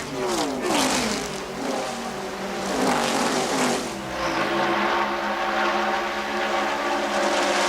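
NASCAR stock cars race at the 1981 Daytona 500, engines roaring loud and steady as several cars sweep past in overlapping waves of rising and falling pitch, with a broadcast voice faintly underneath.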